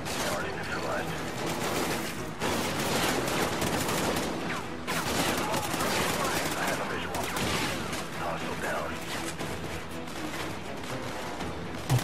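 Sustained gunfire in Call of Duty Ghosts, a dense, continuous stream of rapid shots with heavy combat noise that carries steadily throughout, with voices speaking over it.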